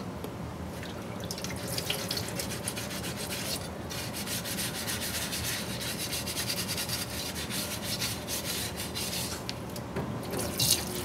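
A non-Brillo scrub pad rubs steadily against RC car parts in a parts washer, a constant close abrasive scrubbing mixed with running, splashing solvent, heard alone without talk.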